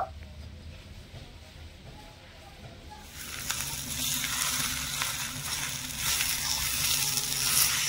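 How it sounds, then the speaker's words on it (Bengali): Potatoes and cabbage fry in a pan, a soft scrape giving way to a louder, steady sizzle and hiss as stirring continues close by. "এবারে এই আলুটা দিয়েও নেড়ে চেড়ে একটু ভেজে নেব।"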